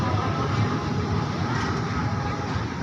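A passing train's last carriage rumbles steadily by nearby, a continuous low roar of wheels and carriages with faint clatter, fading slightly toward the end.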